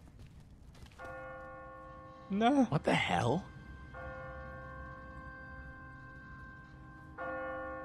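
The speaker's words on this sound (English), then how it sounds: "What kind of church bell goes off at 20 past the hour?" Church bell tolling in The Walking Dead video game, repeated clear rings separated by pauses, with someone briefly speaking between strikes.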